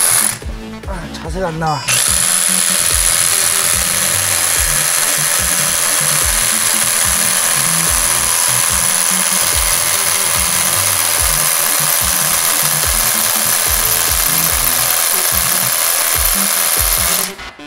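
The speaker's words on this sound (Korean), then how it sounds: "그럼 한번 타공을 해보겠습니다" A Hilti TE 6-A22 cordless rotary hammer drilling a 22 mm hole. Someone speaks briefly, then comes a loud, unbroken hammering drill roar that runs close and steady to the end.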